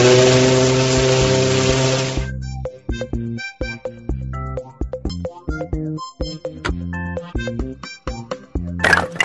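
Ship's steam whistle in a kids' vehicle puzzle app: a loud, sustained tonal blast lasting about two seconds, followed by plinking, rhythmic cartoon music.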